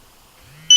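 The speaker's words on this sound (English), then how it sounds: "press and hold the snooze button, which is this, and until you hear the beep" An iLuv SmartShaker alarm clock emits a short, loud electronic beep as its snooze button is held, a sudden steady tone that ends the otherwise quiet moment.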